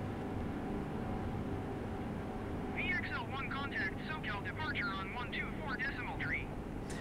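Four jet engines of an Antonov An-225 Mriya climb steeply in Microsoft Flight Simulator, a steady broad drone filling the whole stretch while someone talks over the latter half.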